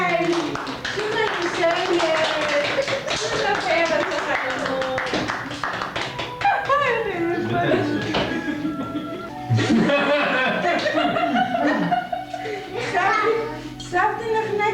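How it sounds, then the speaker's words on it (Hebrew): Children and family clap after singing happy birthday, a lively spell of applause with children's voices and other talk mixed in. "כפיים."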